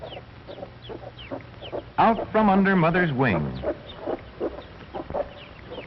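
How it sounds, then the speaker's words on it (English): Plymouth Rock hens and chicks cluck and cheep in a farmyard, a burst of loud hen clucking in the middle flanked by faint peeping chicks while someone narrates over an old, band-limited recording. "These are Plymouth Rock chickens."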